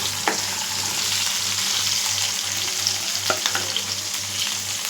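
Tomatoes and onions sautéing in a pan, a loud continuous frying hiss with a few spoon scrapes and a steady low hum underneath.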